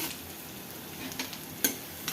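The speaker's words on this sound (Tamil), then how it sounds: "வெங்காயம் நல்லா பொன்னிறமாக வர வரையும் நல்லா வதக்கணும் ஃப்ரெண்ட்ஸ்" Onions with a little ginger-garlic paste sauté in a pan, a quiet, soft sizzle broken by a few light clicks and scrapes of stirring.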